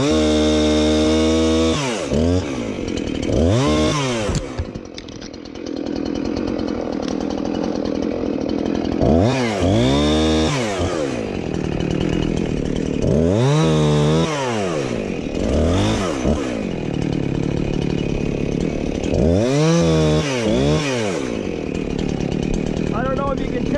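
Chainsaw with a freshly sharpened chain cutting through wood on a farm, engine rising and falling in repeated bursts as it bites into each cut, loud and close throughout.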